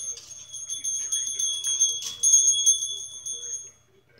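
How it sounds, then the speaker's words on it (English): A small pipe bell rings repeatedly in light, irregular dings, fairly close, with a soft shuffling background. "Are you trying to ring that bell?"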